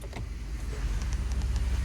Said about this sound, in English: Started the truck up, and the radio's on, and I'm gonna put it into reverse